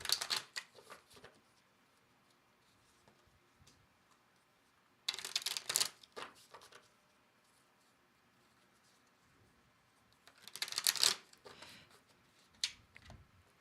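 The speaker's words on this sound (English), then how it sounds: "I will shuffle the cards." Tarot cards are shuffled in three short riffling bursts, close by, with quiet pauses in between.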